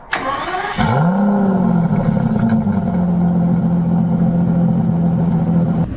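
An Aston Martin DB11 engine cranks and fires up with a sharp roar, then settles into a loud, steady idle close by.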